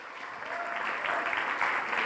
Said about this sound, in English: Let's have a big round of applause as she comes on.